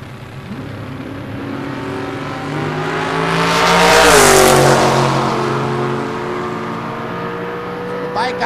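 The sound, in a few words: drag race launch of 427 small block Chevy pickup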